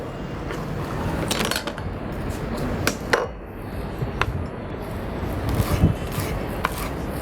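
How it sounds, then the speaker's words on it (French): A knife chops parsley on a board during a cooking competition, giving irregular soft taps and scraping strokes over a busy background hum. "Maintenant, je vais commencer à hacher la persil."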